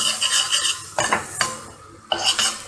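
Flour roasting in a pan for a chicken sultan kebab sauce, stirred with a utensil that scrapes and clinks against the metal in short bursts over a soft, steady sizzle.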